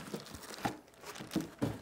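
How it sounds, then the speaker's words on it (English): A plastic bag crinkles and rustles as a Creality CFS filament unit for a K2 Plus 3D printer is pulled out of it, with a few soft, close crumpling bursts. "And then individually wrapped inside a plastic bag. Let's get it out of that bag."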